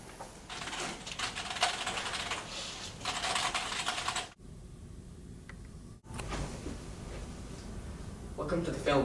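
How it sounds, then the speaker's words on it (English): Computer keyboard keys clatter in quick bursts of typing, with brief pauses between runs, close and fairly clear, with a voice in the background. "Mouse, hit the keyboard"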